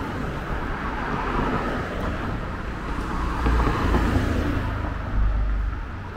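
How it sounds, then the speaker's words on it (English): Traffic rolls by on a busy residential street, with a continuous roar of passing cars that swells as one vehicle draws near and recedes, plus a later rumbling surge, fairly loud and close. "having traffic like this on your street"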